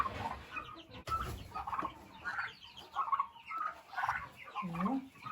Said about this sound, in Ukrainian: справжній індик